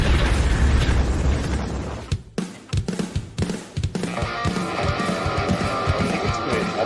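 A sound-effect explosion booms heavily, then rumbling bursts and pops stutter in uneven pulses before settling into a sustained roaring, crackling wash.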